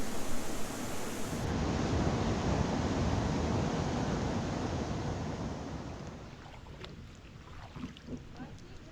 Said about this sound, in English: I love those little waterfalls.